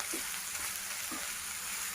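Egg frying in a pan with chopped cluster beans, a soft continuous sizzle heard up close with a couple of faint stirring bumps and no voices.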